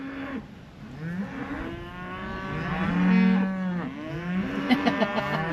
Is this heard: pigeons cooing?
no